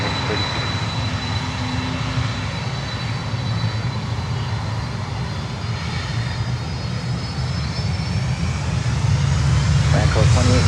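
A jet roars on the runway at Miami airport, a loud, steady, broadband rumble that builds toward the end, with radio voices talking over it.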